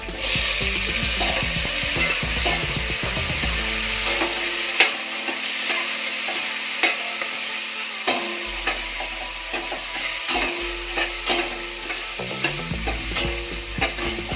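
Garlic, onion and tomato fry in a pan for pink salmon sinigang sa miso, with a steady close sizzle under frequent clinking, scraping stirs of a utensil against the pan, continuing alone without talk.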